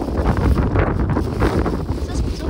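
Steady wind buffets the microphone in an open farm field, a loud low rumbling roar that rises and falls throughout.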